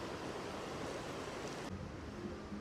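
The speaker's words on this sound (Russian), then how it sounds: "вот такой вот водопад" A waterfall in Tbilisi's old town pours as a steady, dense broadband rush, close and continuous, with a brief shift in tone partway through and no voices.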